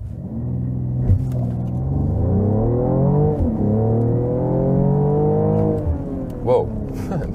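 A Mercedes GLE Coupé 53 AMG accelerates hard from a standstill to 90 km/h, its engine rumbling loud and deep and rising in pitch through several gear changes, heard from inside the cabin.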